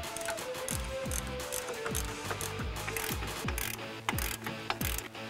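A hand ratchet clicks rapidly in repeated bursts while tightening brake caliper bolts on a 2007-2014 Mustang GT500 during a spring install, the pawl chatter close and steady with no talk.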